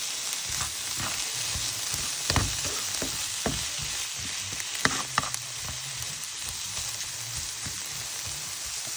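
Mushrooms sizzle steadily in a pan, close and moderately loud, with a constant crackling hiss and a few sharper pops and scraping stirs scattered throughout.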